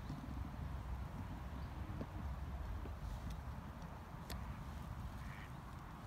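Ducks quack outdoors in a sunny dandelion field, with scattered calls over a steady, dense background of rustling and ambient noise.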